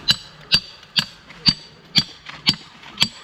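Sharp hammer strikes on wooden pegs driven into a mango tree ring out at a steady pace, seven blows about half a second apart, close by with no talking.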